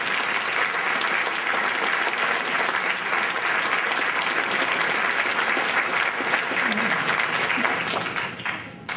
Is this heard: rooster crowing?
no